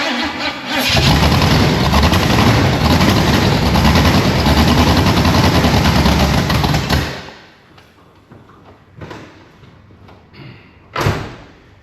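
A Pontiac Grand LeMans cranked with the key after a year off, timing slightly off: a loud, steady engine roar for about seven seconds, then it cuts out, followed by a few quieter knocks and a sharp thump.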